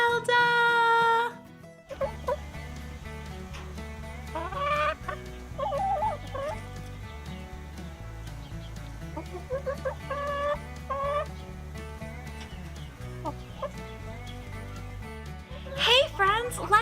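Hens cluck repeatedly in short bursts at a farm chicken coop, busy clucks scattered through the whole stretch over steady background music, with a voice also present.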